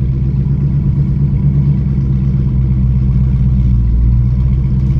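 A purple 1000-horsepower Dodge Hellcat runs close by with a deep, steady, heavy rumble that holds an even level throughout.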